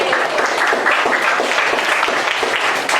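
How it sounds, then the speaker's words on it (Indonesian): Class of seventh-grade students applauding in a classroom, dense continuous clapping from many hands at close range, steady and even throughout. "Tepuk tangan dulu untuk kelas 7C."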